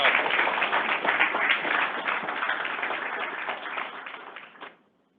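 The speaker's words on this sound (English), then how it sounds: "Let's give Bill a round of applause" An audience at an employee recognition ceremony claps in a sustained round of applause, dense and fairly loud, fading out abruptly near the end with no talking over it.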